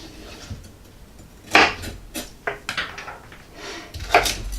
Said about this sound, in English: Slice them up, cut them up in pieces a couple inches long.